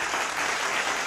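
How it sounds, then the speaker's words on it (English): Applause sound effect played on a live stream, a dense, even burst of clapping lasting about a second with no pauses. "let me clap it up for you guys who've been patient"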